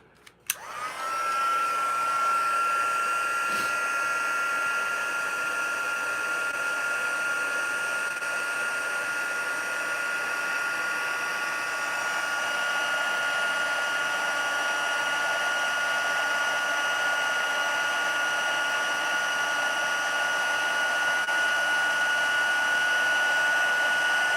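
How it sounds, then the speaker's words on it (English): A cardmaking heat tool blows steadily after a short start-up, a constant loud airy whir with a high whine running unbroken for over twenty seconds, close by and with no talking. "we're gonna bring in the heat tool"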